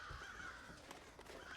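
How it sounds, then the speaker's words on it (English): Several crows caw at a distance in the stealth game Thief, harsh calls repeating irregularly over a faint ambient hum. "Shut up, birds! I've got more important things to deal with than birds."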